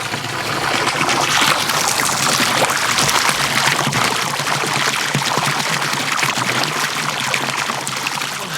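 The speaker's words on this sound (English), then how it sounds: "That means it's going to start pumping." A water pump running off a solar-powered generator, giving a continuous rushing, splashing flow of water that stays fairly loud and even throughout with no voices.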